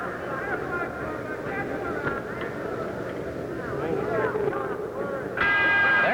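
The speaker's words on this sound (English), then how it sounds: "There's the bell." Boxing ring bell clanging at the end of round 7 at Madison Square Garden, a bright sustained ring near the close after steady crowd noise and ringside commentary.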